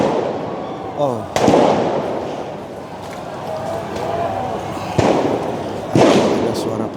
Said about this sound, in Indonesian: Ada suara petasan